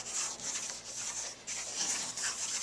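A hand rubs back and forth over paper on a craft frame, producing a soft, continuous scratchy hiss in short strokes, close and quiet.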